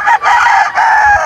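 Roosters crowing outdoors, two or three long harmonic calls running back to back and fairly close, with no speech over them.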